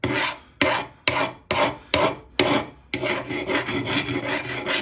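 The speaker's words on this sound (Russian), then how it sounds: "Прошлись на гриндере" Repeated rasping strokes of an axe edge being ground on a belt grinder, five loud separate passes with short gaps, then one continuous grinding run, close and with no talk.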